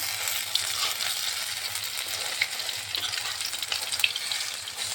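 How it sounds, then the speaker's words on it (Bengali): Rice and lentil paste pakoras frying in oil over a low flame, a steady close crackling sizzle with small pops, with occasional light stirring and turning. "এই যে পকোড়াগুলি লো ফ্লেমে একটু নেড়ে উল্টে পাল্টে ভেজে নিচ্ছি।"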